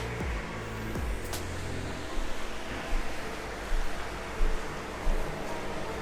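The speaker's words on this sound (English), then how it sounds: "Leave the window open and hear the sound of the waves." Ocean waves roll onto the shore near an oceanfront apartment in Rabat, Morocco, a constant broad surf roar with periodic swells breaking every second or so, heard through an open window without talk.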